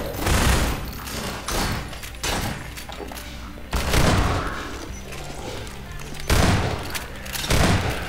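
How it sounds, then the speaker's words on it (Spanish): Grenade blasts and gunfire from Half-Life 2: Episode One arrive as several loud, booming bursts spaced a few seconds apart, with rumbling debris and scattered shots between them. "¡Ah, intercambio de granadas!"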